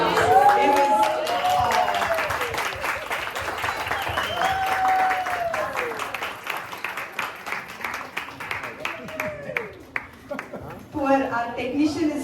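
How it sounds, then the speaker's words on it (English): A theatre audience gives a standing ovation, with loud continuous applause and clapping from a crowd that gradually thins into scattered claps, with voices speaking over it. "This one deserves a standing ovation though."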